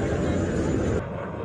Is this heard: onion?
no